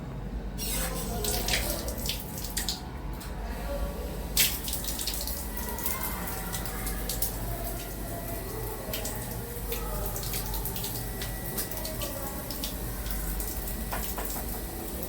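Tap water runs steadily for wudu ablution, a continuous close splashing stream with occasional brief louder splashes, with no voices.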